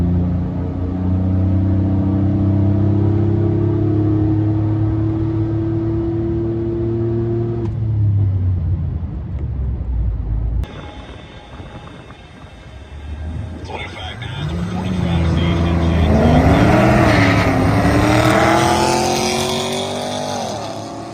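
A stock 4.3 V6 1500 pickup truck runs the quarter mile, its engine revving hard through rising pitches with a gear change, a brief lull, then loud acceleration again, with voices in the background.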